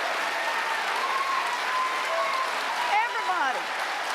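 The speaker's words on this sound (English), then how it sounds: "prompting prolonged applause from Democratic voters in Jackson," Prolonged applause from Democratic voters at a political rally in Jackson, Mississippi, a steady dense wash of clapping that holds throughout, with brief vocal calls rising near the end.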